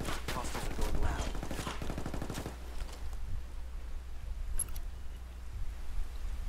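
Gunfire in a shooter video game: rapid bursts of shots rattle for the first couple of seconds, then give way to quieter background noise with a faint later burst.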